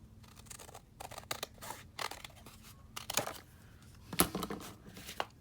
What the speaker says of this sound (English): I had too big of a stack, so I'm going to just cut it